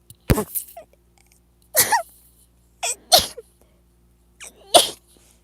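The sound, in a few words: sneeze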